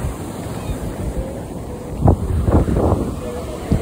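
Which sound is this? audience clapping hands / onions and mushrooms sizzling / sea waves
sea waves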